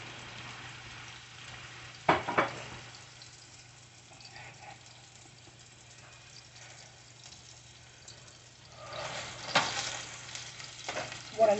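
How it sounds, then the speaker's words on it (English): Pork tenderloin sautés in a pan with a soft, steady sizzle and frying hiss, broken by a few louder bursts as it is stirred or moved, with no voices over it. "So let's get this sauteed. And the sizzle, it comes,"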